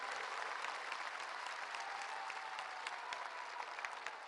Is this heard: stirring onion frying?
no